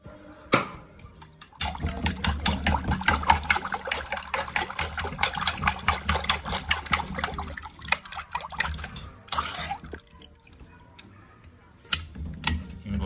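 Warm water pours and trickles into a container for soaking for several seconds, splashing unevenly, then tapers off into a few scattered drips and taps.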